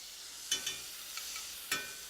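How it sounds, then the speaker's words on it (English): Faint sizzle of garlic frying in a pan while cooking squid, with a few soft stirring scrapes and clinks over a steady hiss. "that is going to stop that frying process"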